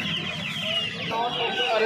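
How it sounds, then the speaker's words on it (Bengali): Sonali chicken chicks at the Uluberia hen market give a steady stream of high, overlapping cheeps and clucks, close and continuous over a low crowd murmur. "এখানে প্রচুর সোনালী মুরগির বাচ্চা রয়েছে"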